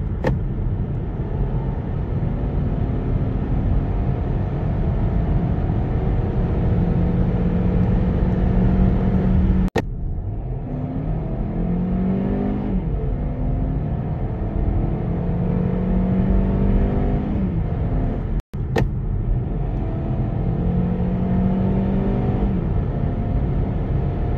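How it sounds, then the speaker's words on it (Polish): A Kia XCeed GT-Line with the 1.5 T-GDI engine and seven-speed dual-clutch gearbox accelerates hard from inside, engine note climbing through repeated rising sweeps with brief drops at gear changes, steady and loud. "najpierw pokażę elastyczność i reakcję na gaz"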